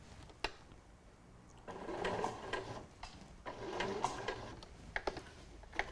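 A sewing machine stitches around the corner of a cushion in two steady runs of rapid mechanical whirring, separated by short pauses with faint clicks and handling sounds.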